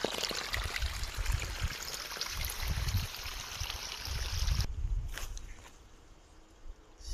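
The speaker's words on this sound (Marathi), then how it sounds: "बघू शकता आपण पाणी सोडलेलं आहे" Steady rushing and trickling of irrigation water flowing into a sugarcane field nearby, continuous, then easing off slightly toward the end.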